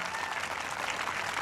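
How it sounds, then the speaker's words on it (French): A congregation applauds during an evangelism campaign in Antananarivo, Madagascar: dense, steady clapping from many hands fills the whole moment with no voices standing out. "Applaudissez la parole."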